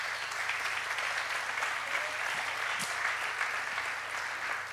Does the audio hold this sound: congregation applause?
yes